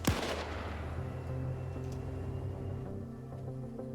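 A gun fires a single sharp, loud blast in a war video game featuring a T-34 tank, followed by a rumbling decay over low mechanical drone and faint distant shots.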